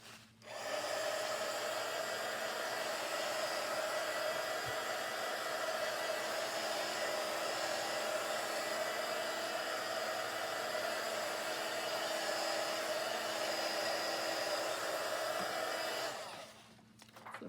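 A handheld hair dryer blows steadily to dry a sheet of homemade vellum, a loud continuous airy whoosh with a constant motor whine running for about fifteen seconds before it switches off.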